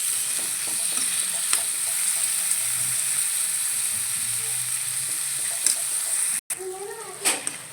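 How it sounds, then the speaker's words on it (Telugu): Bitter gourd and onions frying in a pan, a steady close sizzle and hiss with occasional stirring scrapes. "కాకరకాయలు వేసుకొని కొంచెం మగ్గనియాలి."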